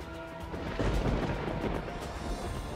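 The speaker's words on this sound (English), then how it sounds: "I hear a storm coming, though." Storm thunder in the video game Mass Effect Legendary, a sustained deep rumbling roll with broad noisy texture that stays steady and fairly loud throughout, with no voices.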